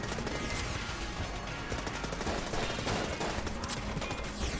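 Dense, continuous rapid gunfire and impact noise fill the Enter the Gungeon video game without a break, staying loud and busy throughout.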